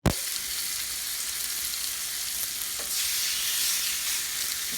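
Four steaks sizzle steadily on a hot grill, a loud, close, continuous frying hiss that swells slightly toward the end, with no voices.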